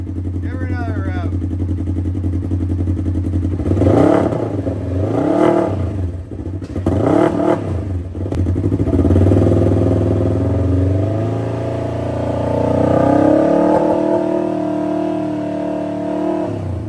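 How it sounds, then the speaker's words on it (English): A 2024 Polaris XP fitted with a GGB center exit sport pro exhaust idles loudly, then revs up in several strong pulses before settling back to a throaty idle, close by, with people talking over it. "Give her another rev."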